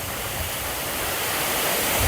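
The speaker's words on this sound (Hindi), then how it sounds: "ये कुएं में मैं पानी डालना है" Water pumped by a motor pouring into a well, a loud, steady rushing splash that holds constant throughout with no talk.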